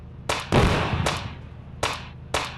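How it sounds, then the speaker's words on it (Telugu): Grenade launches and blasts from a video game gun: four sharp, loud bursts spaced irregularly, the second one larger with a booming low tail, each cutting off quickly into quiet. "ఈ గన్ ఎంతో గ్రెనేడ్స్ వదులుతాయి అంతే"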